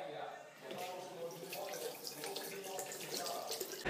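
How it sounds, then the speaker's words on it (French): Tap water runs steadily into a bathroom sink while a toothbrush is rinsed of toothpaste, a continuous close splashing hiss. "tu laves ta brosse à dents"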